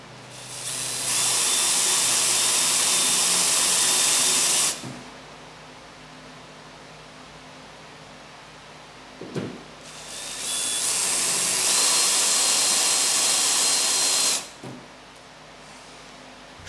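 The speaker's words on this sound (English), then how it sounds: "place the drill in low speed and keep the bit straight to make small indentions" A power drill whirs at low speed in two sustained bursts of several seconds each, separated by a quieter pause with a faint clunk between runs.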